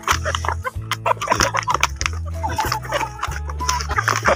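Chickens cluck and peck in short, busy bursts close by, layered over a steady rhythmic backing beat.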